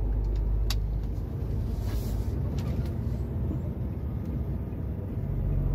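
A truck cruising on a Swiss motorway, heard from inside the cab: a steady, loud low-frequency engine and road rumble that holds evenly throughout, with faint clicks on top.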